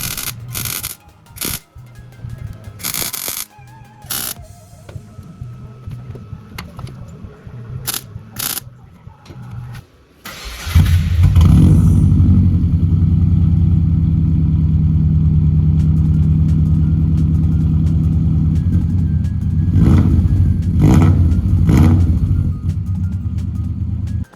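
A non-turbo offroad Subaru Forester engine starts with a sudden loud burst and settles into a heavy, rumbling blast-pipe exhaust note that swells with a few revs, loud and close.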